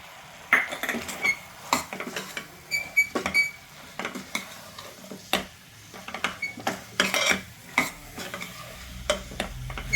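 Sambar powder and turmeric being stirred in a frying pan for a village-style sambar, a spoon scraping and tapping the pan in quick irregular strokes over a faint, low sizzle.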